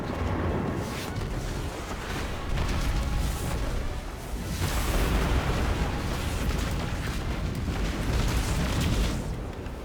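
Missile strikes in the sci-fi shooter Destiny 2, a continuous roaring barrage of explosions and booms, loud and dense for the whole stretch with surging bursts.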